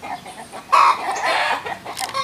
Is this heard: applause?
no